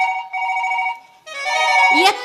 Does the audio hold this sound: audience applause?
no